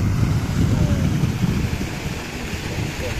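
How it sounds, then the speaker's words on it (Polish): Broad, steady rushing of a river flowing in front of a mountain hut, a dense continuous wash with gusty wind buffeting the microphone throughout. "A tu jest rzeka."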